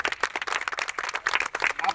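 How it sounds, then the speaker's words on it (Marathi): Schoolchildren at a Zilla Parishad school in Vajgaon burst into a dense patter of fast, loud clapping that holds steady throughout. "टाळ्या वाजवा. जोरात."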